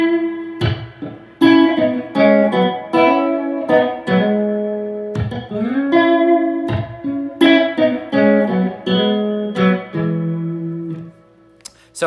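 Electric guitar playing the main riff of a song, clean chordal double-stops with slides and bends, loud and close, no talking.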